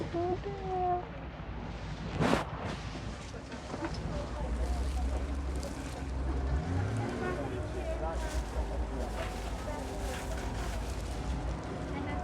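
A passenger boat under way near Georgetown, its engine droning steadily with wind and water noise, a sharp clank partway through and a low horn-like tone midway.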